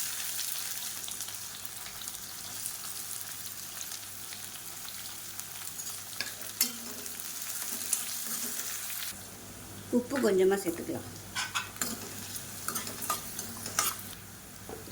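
Garlic and finely chopped onion sizzle in hot oil in a pan, stirred now and then with a spatula scraping the surface; someone speaks briefly over the steady frying.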